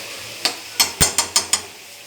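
Vegetable mix stirred in a pan on the stove, heard as six sharp scraping clicks of a utensil against the pan at an uneven pace over a faint low background, with no talk.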